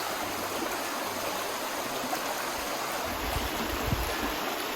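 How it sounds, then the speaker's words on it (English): A river stream flows steadily in a natural setting where people wash up, giving a constant close rushing wash of water with a few low thumps of handling near the end. "we've also been washing up in the river"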